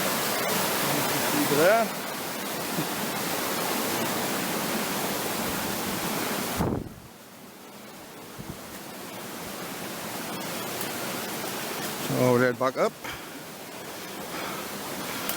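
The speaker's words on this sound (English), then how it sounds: "The river's right up today, so we can't really get around." A high, fast-flowing river rushes loudly as a constant broadband roar, dropping and changing abruptly partway through as the listener moves away, with a person briefly speaking over it.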